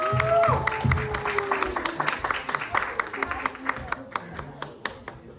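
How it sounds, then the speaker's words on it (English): A small audience claps after a children's play, the claps distinct and gradually thinning out, with voices and cheering mixed in at the start. "Let's give a big clap for everybody."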